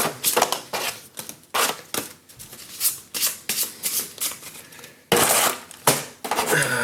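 Sagrada board game cards are riffled and shuffled close up on a tabletop, producing a series of crisp, rapid fluttering bursts separated by short pauses and taps.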